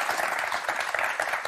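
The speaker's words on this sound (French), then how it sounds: "On va vous applaudir très très fort." A TV game show studio audience applauds steadily, a dense wash of many hands clapping at once with no pause.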